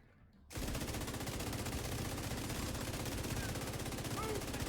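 Sustained automatic gunfire in the video game The Division 2, starting abruptly after a brief quiet moment and continuing as a dense, rapid, unbroken burst of loud shots.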